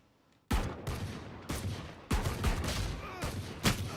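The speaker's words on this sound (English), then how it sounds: "This gun does not shoot straight." Rapid gunfire from a gun in a competitive online shooter, loud close bursts of repeated shots in several quick volleys with no talking.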